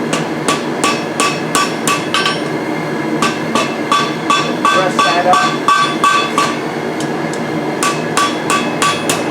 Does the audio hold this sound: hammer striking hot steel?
yes